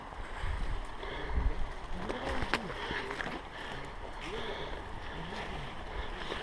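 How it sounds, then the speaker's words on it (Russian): The Snezhnaya river rushes past at night as a steady, broad roar of flowing water, mixed with gusty wind noise on the microphone and faint voices in the background. "Ну, вот она, река Снежная."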